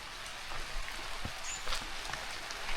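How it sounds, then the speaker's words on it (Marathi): Afternoon rain falls in a village, a soft, even hiss of drops with scattered faint taps on nearby surfaces. "2च्या ठोक्यावरती हा पाऊस सुरू झालेला आहे."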